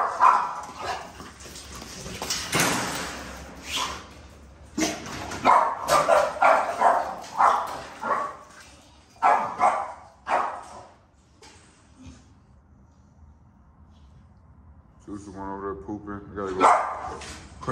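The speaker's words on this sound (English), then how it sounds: "Only dog barking y'all see is Cookie." A dog barks in short bursts at a house late at night, several separate barks and yips spread across the scene, with people talking in between.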